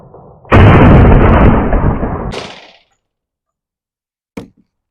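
A single loud handgun shot fired from a pistol fitted with a Holosun circle-dot optic, a sharp blast with a ringing decay lasting about two seconds, followed by a brief faint knock.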